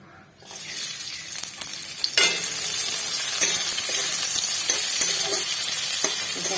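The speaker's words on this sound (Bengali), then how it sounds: "এখানে আমি কড়াইয়ে তেল দিয়ে দিচ্ছি আমি একটু বেশ তা ভেজে নেবো" Oil sizzles steadily in a wok as ingredients for an egg and potato dish are fried, a loud continuous crackle starting abruptly with occasional stirring clinks.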